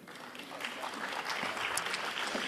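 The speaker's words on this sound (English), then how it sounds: "Could we please have a round of applause for Aarti?" An audience claps in a steady round of applause at a social business event, dense and continuous throughout at a moderate level.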